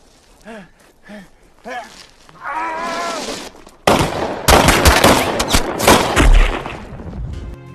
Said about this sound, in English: and then he shot them dead one by one